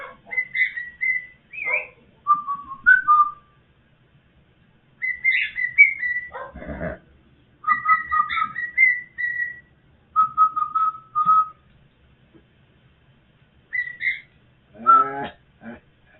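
A pet bird whistles and sings in short melodic phrases separated by pauses, clear and close in a quiet room, with a brief low sound near the end.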